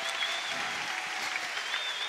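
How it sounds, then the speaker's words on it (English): Steady applause and cheering from a crowd at a men's boulder and lead climbing final in Laval, a dense, continuous wash of clapping heard at moderate distance with no clear speech over it. "the flags wave, the crowd cheer"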